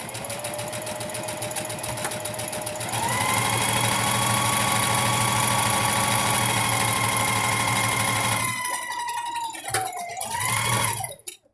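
Sewing machine stitching a patchwork quilt square with a reverse stitch: a steady, loud mechanical whir that rises in speed partway through, then slows and stops in a few uneven bursts.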